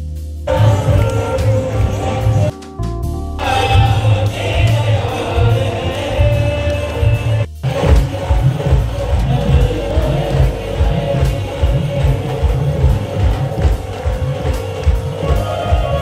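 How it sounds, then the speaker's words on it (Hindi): Large crowd gathered at a Jaya Kishori katha at Jorasi Dham: a loud, dense mass of voices and amplified sound, continuous and close throughout, briefly dropping out twice before resuming. "बहुत ज़्यादा भीड़ है, बहुत ज़्यादा भीड़"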